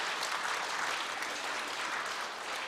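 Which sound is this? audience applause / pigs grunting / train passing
audience applause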